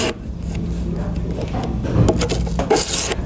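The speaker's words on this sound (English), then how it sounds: "by filing that off just with my file here and get rid of it" Mill file rasping a burr off the edge of a steel card scraper, a few short scraping strokes in close succession, near and moderately loud, with a voice talking over them.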